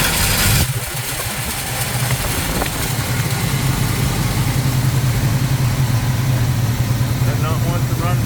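A 1971 Plymouth Cuda V8 is fired by remote starter and idles loudly and roughly, a dense uneven rumble that persists without speech.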